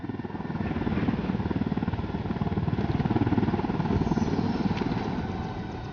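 A helicopter in the video game Ghost Recon Wildlands drones steadily with a rapid rotor chop and engine whine, loud and close, holding even for the whole stretch with no talk.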